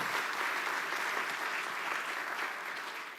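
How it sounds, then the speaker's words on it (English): Loud, sustained audience applause at a United Way annual meeting, a thick continuous roar of many hands clapping that stays strong throughout and eases only slightly at the very end. "So can you please give yourselves a round of applause"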